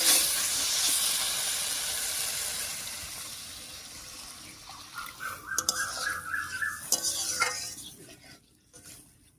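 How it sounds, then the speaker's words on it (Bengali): Water poured into a hot pan of sweet pumpkin curry hisses and sizzles loudly at first, fading into softer bubbling with a few clinks and stirring knocks of a utensil against the pot. "এবারে ঝোলের জন্য জল দেবো।"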